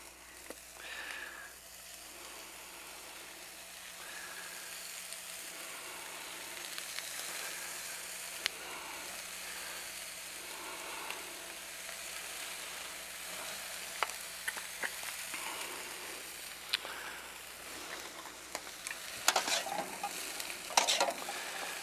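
Buffalo meat fried rice sizzles quietly in a pan, a soft steady crackle with occasional sharper pops and scrapes toward the end.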